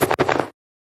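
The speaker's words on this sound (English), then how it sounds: "Flap 1 sounds like this." Wing flap sound effect for a JavaScript side-scrolling game: a short burst of two or three quick, breathy whooshing flaps lasting about half a second, then silence.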